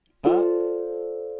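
A single ukulele strum rings out after a moment of silence, its chord sustaining cleanly and slowly fading with no other sound around it.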